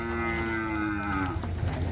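Cattle at a livestock market in Ban Khwao, Chaiyaphum, Thailand give one long, loud, drawn-out moo nearby, with faint market background noise behind it.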